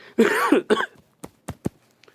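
A man coughs several times, first a rough, drawn-out throat-clearing burst, then three short sharp coughs spaced about a quarter second apart, close to the microphone with quiet pauses between.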